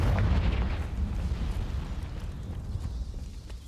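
In Hogwarts Legacy, a Confringo fire spell explodes in a deep, loud, rumbling blast that rolls on and slowly fades over a few seconds, with no talking.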